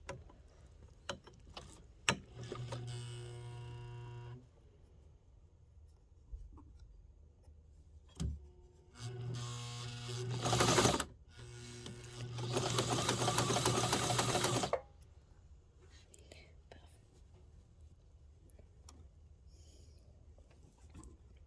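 A sewing machine stitches a hem in a few short bursts, then one longer loud run, with soft clicks and handling sounds between them.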